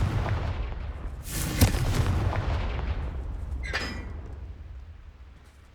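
A Confringo spell blast from Hogwarts Legacy, two sharp booming bursts, the second fainter, over a low rumbling game background.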